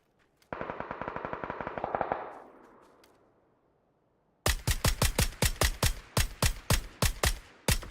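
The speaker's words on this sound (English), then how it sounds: "I heard some other type of shots up here suppressed." Suppressed gunfire in PUBG, first a rapid burst of automatic fire, then after a pause a fast string of about a dozen sharp, loud single shots close by.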